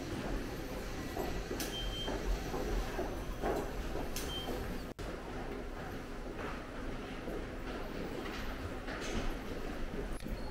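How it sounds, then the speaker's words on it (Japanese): An electric train bound for Okayama pulls into Seto station on the JR Sanyo Line on a weekday morning, a continuous rolling rumble with faint squeaks and one sharp click partway through. "岡山行きの電車が来ました。"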